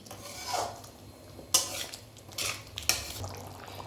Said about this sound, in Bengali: পোস্ত বাটা দেওয়া হয়ে গেছে, এবার এটা ভালো করে আমি কষিয়ে নিচ্ছি।